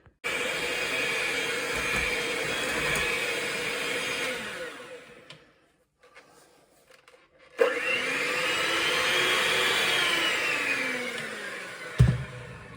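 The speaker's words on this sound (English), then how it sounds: "I'll get this whisked up and show you how it should be" An electric mixer whisks a cake mixture with a steady, loud whirring drone that cuts out for a couple of seconds, then restarts and runs on, ending with a clunk of the beaters against the bowl.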